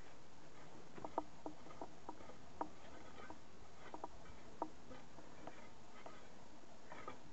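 Soil being raked over to cover a row of sown green bean seeds in a vegetable garden, heard as faint, scattered scraping and ticking of tines and grit over a steady background hiss.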